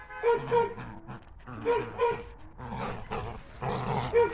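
A small Jack Terrier growls and yips while tugging at a rag indoors, its snarls coming in rough bursts close to the listener, with a person speaking in between.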